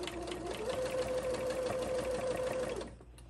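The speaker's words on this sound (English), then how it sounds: "We're going to backstitch really well here" A sewing machine backstitches along a zippered fabric pouch in a close, continuous whirring run of about two seconds that stops abruptly.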